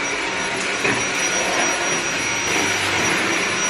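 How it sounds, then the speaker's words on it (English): A vacuum cleaner runs across a kitchen floor, a loud steady whooshing roar that holds constant throughout with a faint high whine and no talking. "it's kind of dirty, so I'm gonna vacuum"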